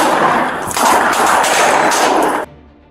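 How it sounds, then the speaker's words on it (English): Rapid bursts of gunfire crackle loudly and continuously in a deadly police shootout caught on sheriff's office surveillance video, overlapping shots in quick succession, ending abruptly into near silence. "Surveillance video from the Ross County Sheriff's Office captured a deadly exchange of gunfire"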